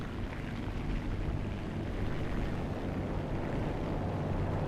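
Steady broadband drone of a P-26A-34 aircraft engine throttled down in the War Thunder video game, a continuous low rumble holding even and loud throughout with no talk.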